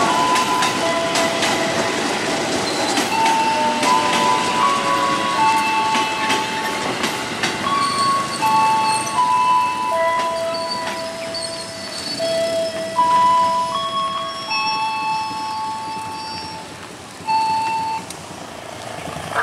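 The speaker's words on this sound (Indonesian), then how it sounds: "Tiba dan berhenti di jalur 3 Stasiun Tigaraksa." A KRL commuter train arrives and stops at Tigaraksa Station, a steady loud rumble of rolling cars with clattering and scattered high tonal squeals and horn-like notes throughout.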